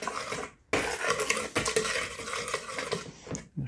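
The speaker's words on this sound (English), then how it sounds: "just go ahead and stir all those dry ingredients all up nicely so it's all mixed in good" Dry pancake ingredients of flour, salt and sugar stirred together in a bowl, a steady scraping, rattling swirl close by with a few brief pauses.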